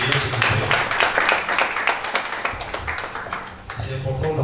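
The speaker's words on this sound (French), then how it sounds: "Madame l'ambassadrice, des applaudissements pour accueillir s'il vous plaît." Audience applause greets an ambassador at a celebration of International Youth Day, a dense, steady patter of many hands clapping with voices talking over it throughout.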